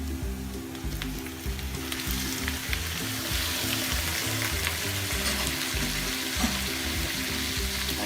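Beef frying in a hot pan for Bicol Express, a steady loud sizzle with crackling bursts and some stirring, with no one speaking.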